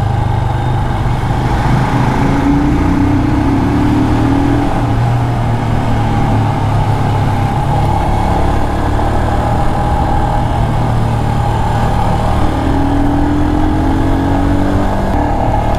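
A 2021 Royal Enfield Himalayan motorcycle engine pulls steadily at low revs, a continuous close-up drone with slight rises in pitch as it picks up speed, heard alone without talk.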